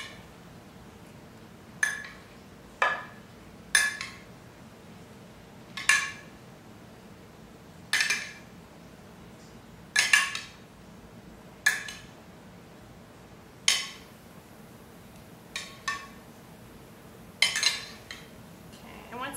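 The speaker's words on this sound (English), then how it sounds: "now we're going to put in the strawberries." Strawberries are spooned into a cobbler pan already holding blueberries. A spoon clinks against the dish at a steady rhythm, about every two seconds, close by and fairly quiet.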